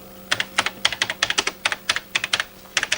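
Keys clack on a machine keyboard in short irregular bursts of crisp, close strokes, some in quick pairs, over a faint hum with no talk.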